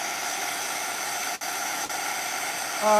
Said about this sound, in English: Right now, I'm just frying this.